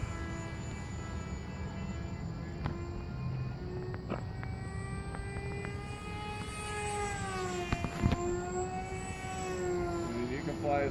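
An RC model airplane with a small quad motor and a 7.5 prop flying nearby, its motor whining steadily and shifting pitch as it passes and turns, with faint background noise throughout.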